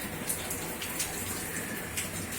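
Steady rain falls outdoors on a night of light showers, a soft continuous hiss with occasional brighter drip accents, moderately near and with no voices.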